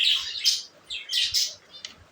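Pet lovebirds and parrots in a home aviary giving several shrill, high squawks and chirps in quick bursts, close and clear with no talking.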